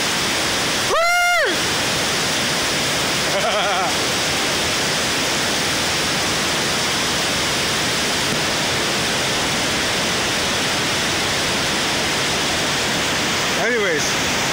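Steady broadband roar of a waterfall at the base of Walton Glen Gorge, constant and close throughout, with brief whistles or calls standing out near the start, middle and end.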